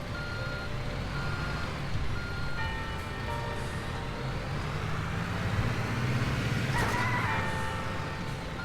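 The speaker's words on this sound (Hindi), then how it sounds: "ट्रक को पार्क कर देते हैं अपनी जगह पर" A truck in the video game Construction Simulator 3 reverses into its parking spot, steady repeated backup beeps sounding over a continuous low engine rumble.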